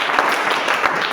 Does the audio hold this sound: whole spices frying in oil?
no